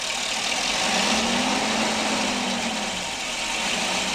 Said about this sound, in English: that's running on natural gas